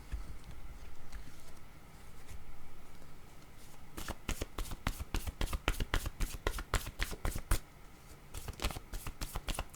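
Playing cards shuffled for a tarot-style card reading: a soft rustle at first, then from about four seconds a rapid run of crisp, close riffling snaps in quick bursts, with a brief pause before a final flurry.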